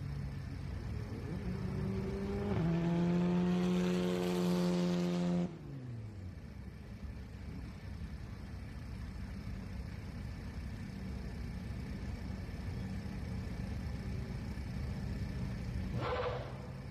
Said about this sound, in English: we see the cars making that hairpin turn there to go to winner's circle